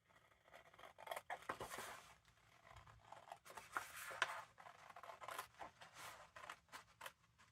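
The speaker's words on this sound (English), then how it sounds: "So let's cut up here." Scissors cut through a vintage book page in a series of close, crisp snips and papery rustles, quiet and alone with no voice.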